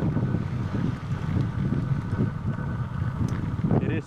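Strong wind blows steadily at a beach on El Faro trail in Rincon, Puerto Rico, producing a loud, continuous roaring rush with gusty buffeting against the microphone.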